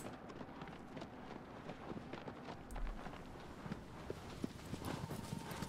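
A horse galloping in Shadow of the Colossus, steady rhythmic hoofbeats pounding fairly close under a constant rush of wind, with no talking.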